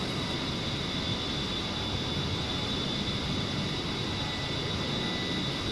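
A steady, continuous roar of an aircraft engine in a video game with a high whine, holding at one level throughout.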